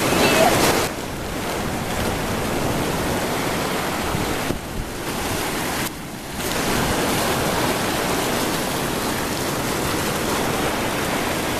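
Ocean surf at high tide washes steadily beneath a pier at a beach in Nusa Dua, Bali, a loud, continuous roar with a brief dip partway through and wind buffeting the microphone.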